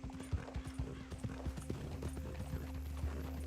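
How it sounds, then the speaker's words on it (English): Horse hooves clip-clop at a steady trot in the video game Red Dead Redemption 2, a close, even rhythm over a constant low in-game hum. "this horse is a beast. It's like a little bull."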